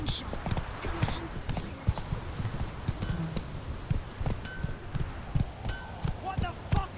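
Rapid, uneven hoofbeats from a horse galloping in The Witcher 3 pound steadily up close, with game voices speaking over the run.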